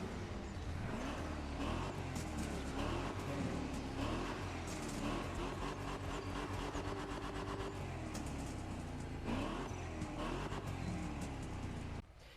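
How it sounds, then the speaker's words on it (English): A Chevrolet Chevelle SS in The Crew Motorfest racing game, its V8-style engine droning and revving loudly and steadily for the full stretch, with no talk over it. "listen to this engine."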